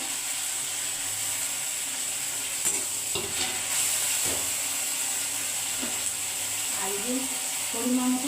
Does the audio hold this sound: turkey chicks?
no